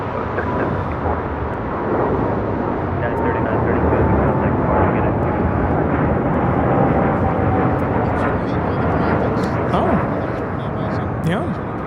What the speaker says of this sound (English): United Airlines 3932 taking off to San Juan on a 787-9 Dreamliner, Puerto Rico.